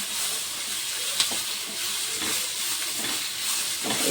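Tomatoes frying in a kadai for egg curry give a steady, close broadband sizzle and hiss throughout, with a few faint clicks and stirring scrapes, and no voices.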